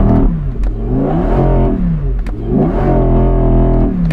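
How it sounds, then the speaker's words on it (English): An Audi engine revving before a drag race, three rising and falling rev sweeps with a strong harmonic whine, loud and close, with no voices over it. "That sounds like a supercar,"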